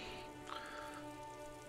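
Steady rain falling in the video game Disco Elysium, a constant soft patter and hiss with a faint swell partway through, with no voices.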